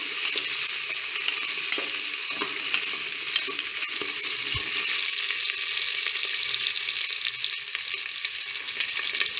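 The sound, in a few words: green chillies and vegetables being sautéed and stirred in a pan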